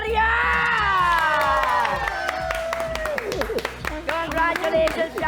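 A game-show studio audience shouting, whooping and clapping as a first runner-up is announced, loud and close, with raised voices and scattered claps throughout.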